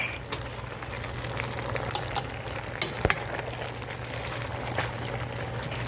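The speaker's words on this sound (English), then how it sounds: "So you're just gonna stir your spinach in." Spinach being stirred into a pan of Cajun chicken, sausage and shrimp pasta: a steady low sizzle with scattered utensil scrapes and clinks against the pan, a few sharp taps near the middle, no talking.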